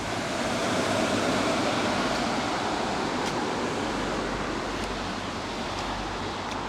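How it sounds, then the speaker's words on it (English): Floodwater pours off the mountains and runs straight down toward a river during flooding in Duanzhou, China, a steady, broad rushing wash that continues unbroken at close range with no voices. "the water coming off the mountains there and just running straight down here, straight down towards the river"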